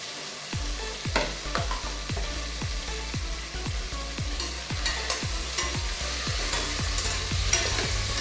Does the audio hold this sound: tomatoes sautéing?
yes